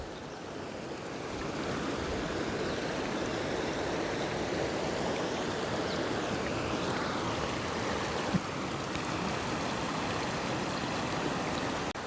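The Bhavani river flows past rocks in a constant broad rush of water that builds slightly after the start and then holds steady, close and fairly loud, with no talking.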